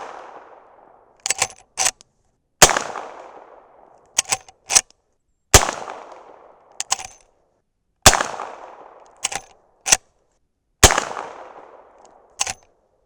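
Henry Big Boy rifle firing powder-coated 158-grain .357 Magnum rounds: sharp, loud single shots in irregular pairs and groups, each with a short ringing tail, no talk.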